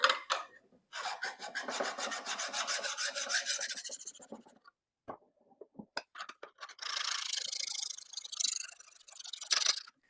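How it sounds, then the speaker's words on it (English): A hedge trimmer blade is rubbed with a 300 grit diamond stone, giving bursts of rhythmic rasping strokes, close and fairly quiet, separated by short pauses and a few light clicks, with no voices. "I can take one of my diamond stones. This is the most aggressive grit of 300 grit."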